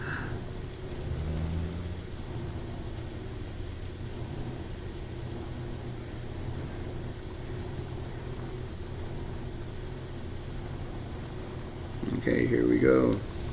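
Modded DND Striker truck in SnowRunner grinds uphill with a steady, low engine drone that holds for most of the stretch, then swells louder near the end as the load increases.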